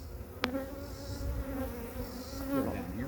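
Honeybees buzz around a hive entrance where comb has been built across the opening, a steady near drone with individual bees whining past, and no talking over the hum.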